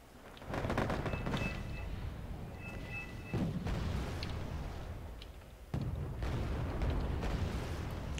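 Bombs burst in the Wargame: AirLand Battle strategy game, giving several heavy rumbling explosions with dense crackling gunfire between them, loud and sustained with sudden fresh blasts partway through.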